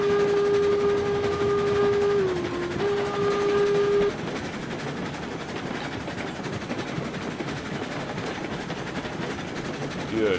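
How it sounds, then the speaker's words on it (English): A video-game steam locomotive whistle in RailRoads Online blows one steady, slightly dull chord for about four seconds over rumbling rail noise, then the train keeps rolling without it. "the whistle on the 48 sounds a little dull now compared to some of the richer whistles"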